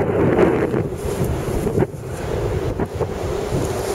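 Wind buffets the microphone at the shore while ocean waves break and wash up nearby, a loud, continuous rushing roar with a few surges.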